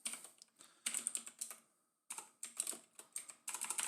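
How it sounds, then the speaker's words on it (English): Typing on a computer keyboard, logging taste-test scores: several bursts of quick, close, crisp key clicks separated by brief pauses, with no speech. "I'm typing this all down in our Discord"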